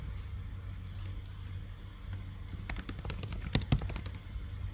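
Computer keyboard keys pressed in a quick cluster of sharp clicks during the second half, as text is deleted, over a steady low background hum.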